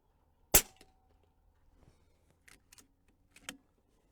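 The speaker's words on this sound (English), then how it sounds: "I'm just going to do 5 shots, okay?" One sharp, close crack from an AirMaks Arms Katran .25 air rifle fired on an outdoor airgun expo range, followed by faint clicks and small handling noises.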